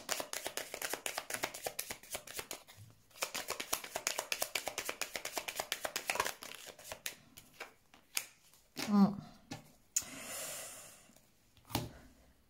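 Tarot cards being shuffled and handled at a reading, a long run of quick riffling flicks followed by a few separate slaps and rustles, close and fairly quiet, with no talking over it.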